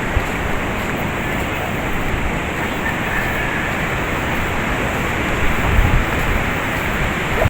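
Strong wind buffets a seashore where surf rolls in, forming a steady, loud broadband roar with no break, bits of wind noise, and no voices.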